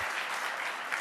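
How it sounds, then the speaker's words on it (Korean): A crowd at an auction of Freddie Mercury memorabilia erupts as his colourful crown and cape are shown: a brief, distant wash of applause and cheering, soft and steady throughout. "알록달록 화려한 왕관과 망토가 나오자 함성이 터져나오고"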